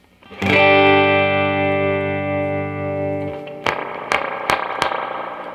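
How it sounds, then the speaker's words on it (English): A sustained electric guitar chord rings out through a distorted amp, drenched in heavy reverb, followed by a few sharp muted strums that echo away. "That's a lot of reverb"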